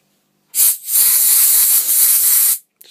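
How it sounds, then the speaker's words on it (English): Compressed air blasts from a can into a laptop during a repair, giving a loud continuous hiss for about two seconds, with a brief dip near the start and a short puff at the end. "I have compressed air."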